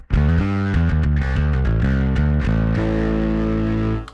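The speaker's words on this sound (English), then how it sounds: "I've also got, you know, the distortion on the Atom" Distorted electric bass using the drive on a Darkglass Atom, playing a string of punchy notes that settle into a long held tone, loud and steady with no talking.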